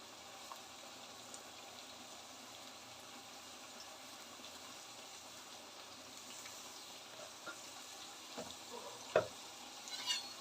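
Sliced onions fry in a pan until reddish, giving a steady low sizzle with occasional scrapes and stirring clatters near the end, no voices.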